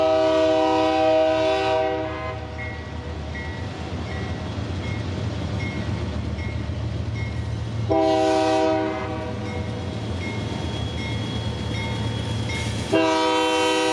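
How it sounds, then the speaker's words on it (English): Norfolk Southern freight train 54G pulling out in Irondale, Alabama, its locomotive horn sounding in three loud blasts over a steady rumble and rolling clatter of railcars. "NS 54G gets the all clear to depart"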